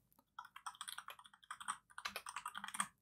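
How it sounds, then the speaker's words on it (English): Rapid typing on a computer keyboard, close and alone, in uneven bursts of quick key clicks with brief pauses, on a PC while writing a forum post about Euro Truck Simulator 2 sound mods. "type in the problem."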